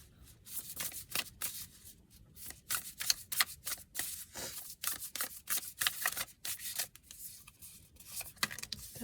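Tarot cards are shuffled, flicked and laid down in a quick, irregular run of crisp snaps and rustles, close and fairly quiet, with no talking.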